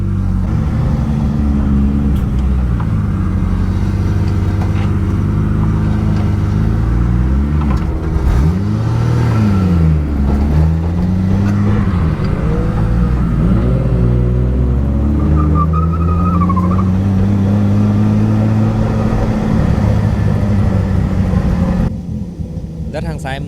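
A car circles a course during drift practice, its engine droning loudly throughout with rising and falling revs as it accelerates and eases through turns, close to the microphone.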